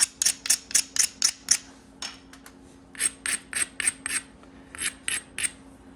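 Rhythmic scraping strokes of a fine abrader rubbing on root beer chert, close up, in quick bursts with short pauses between sets.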